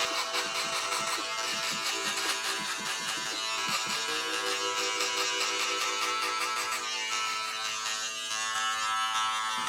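A Wahl electric shaver runs steadily for a low drop fade, a close, continuous high buzz that shifts slightly in pitch as it moves against the hair at the bottom of the head.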